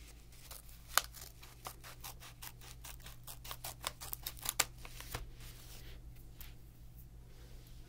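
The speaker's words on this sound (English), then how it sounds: "So get the handy scissors here once again." Close scissors snip rapidly through a crinkly plastic candy wrapper in a quick run of sharp cuts, followed by a few rustles over a low steady hum.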